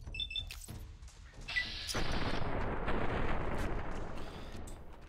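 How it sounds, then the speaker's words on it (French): Gunfire in Fallout: New Vegas, with a sharp blast followed by a dense roaring burst of shots and rumble that sustains loudly to the end, with no talk over it. "t'as pris une balle de fusil dans la tête à bout portant"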